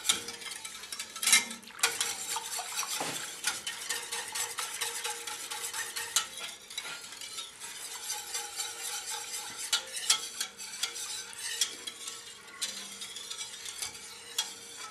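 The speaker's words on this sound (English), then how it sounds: "I'm going to add a cup of cream to this, and I'm going to whisk it in." Cream is whisked into tomato basil soup in a pot, a busy continuous scraping and clinking of a whisk against metal over a soft simmer, close and without speech.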